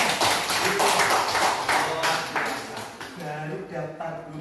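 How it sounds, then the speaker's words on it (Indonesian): A classroom group of schoolchildren and teachers claps hands in a few quick bursts, fairly close and loud, with talking mixed in and a speaking voice continuing afterward. "Tepuk tangan semua."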